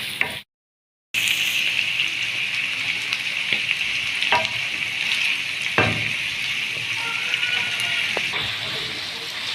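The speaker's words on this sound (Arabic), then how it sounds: "ننزل بالجوانس الاول عشان هي بتاخد ايه فتره على بال ما تستوي" Chicken gizzards sizzling in hot oil in a pan while being stirred, a steady loud frying hiss broken by occasional scraping knocks of the spoon, after a brief silent gap at the start.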